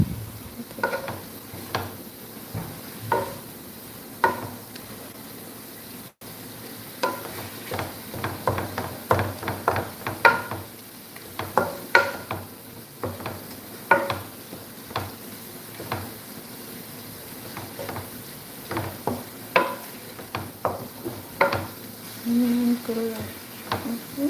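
Onions and meat frying in a pan for spring roll filling, a soft steady sizzle broken by frequent scraping and stirring clicks of a utensil against the pan, quiet and close with no talk.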